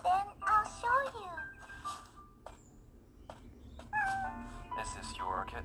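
A small kitten meows repeatedly in short, high, wavering cries, close and fairly loud, with a quiet background between the calls.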